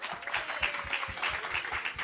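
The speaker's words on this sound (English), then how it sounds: "Manaf, please give him a round of applause." An audience claps for an artist who painted live during a conversation event: a short, steady stretch of crowd applause with distinct individual claps, moderately close.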